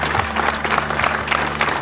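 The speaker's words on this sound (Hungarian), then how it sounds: "És egy hatalmas tapsot kérek szépen!" Wedding guests clap together in a short burst of steady applause, with a faint background hum running underneath.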